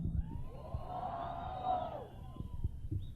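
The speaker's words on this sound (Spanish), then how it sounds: "¿qué tan fuerte es la ovación del Distrito Federal?" Large live crowd in Mexico City roars an ovation at a 1992 sonidero dance event, a dense wash of cheering, whoops and shouts swelling loudly and sustained throughout, with a few sharp bursts near the end.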